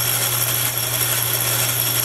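A metal lathe running at about 1,000 RPM, cutting with a carbide insert, gives off a loud, steady machine drone with a constant low hum and a hiss above it, close by and unchanging.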